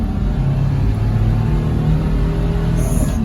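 A Daihatsu HiJet kei truck with a four-speed manual gearbox drones loudly from inside the cab, its small engine giving a steady, rumbling hum that holds without a break.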